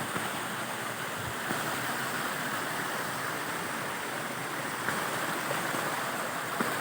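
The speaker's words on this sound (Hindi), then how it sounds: "आबशारा ही आबशारा।" A waterfall near Samani in Azad Kashmir roars in a constant, full wash of falling water, close and continuous, with no voices over it.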